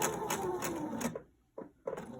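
A sewing machine stitches fabric slowly up to a pin, running in a fast rhythmic whir for about a second, then pausing before two short bursts of stitching close by.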